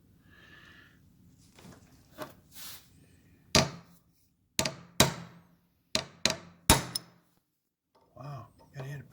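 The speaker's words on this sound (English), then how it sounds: "we're gonna wedge these things in there now by peening them in with a chisel here" A hammer striking a chisel to peen parts into the clutch of a 1979 Triumph Bonneville 750cc, five sharp, loud metallic blows in an irregular sequence, close by, with brief speech before and after.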